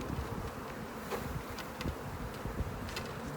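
A large clump of honeybees pulled from a chimney fills the air with a dense, steady buzzing close by, with brief sharper swells and a few clicks on top, and no voices.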